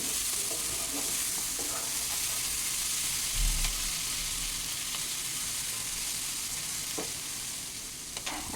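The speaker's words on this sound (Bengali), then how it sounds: "ভালো করে একটু নেড়ে চেড়ে দিলাম" Kachki river fish chorchori frying in a wok, a loud, steady sizzle with occasional stirring clinks and a low thump midway, close and continuous throughout.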